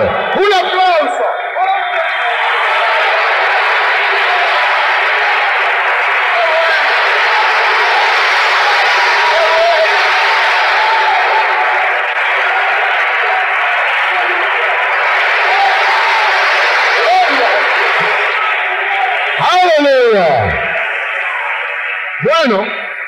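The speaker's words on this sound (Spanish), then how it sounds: "¡Un aplauso!" A church congregation at a Spanish-language sermon breaks into loud, sustained applause lasting many seconds, a dense wash of clapping and cheering that fades near the end.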